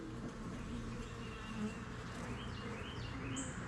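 Bees hum softly at an open two-frame hive, a faint, steady buzzing drone close by with no one speaking.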